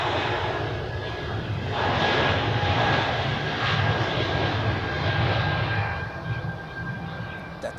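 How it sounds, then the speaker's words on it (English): Helvetic Embraer jet at Zurich Airport, a steady, loud engine roar that stays fairly even and fades slightly near the end, heard from nearby without talk. "That's the Helvetic Embraer to Bremen."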